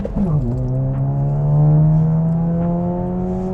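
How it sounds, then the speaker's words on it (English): A front-wheel-drive VW Scirocco GT makes a handbrake launch. The engine revs up sharply, then holds a loud, steady, rising drone as the car pulls away, with no talking. "Let me know what you guys think of my handbrake launch there."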